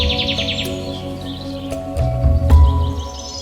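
A kingfisher opens with a quick, shrill rattle of repeated chirps over a steady tonal hum, followed by a few soft thumps and low rumbles.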